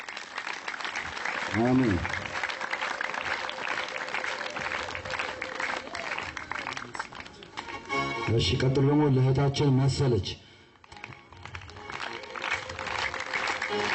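An audience at a church gathering on a TV program breaks into sustained applause, mixed with cheering, while a speaker keeps talking over it; the clapping swells loud for a couple of seconds before dropping off.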